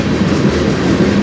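A CN freight train pulls away on the Strathroy Subdivision, its wheels clacking steadily over rail joints in a loud, continuous rumble close by, with no voices.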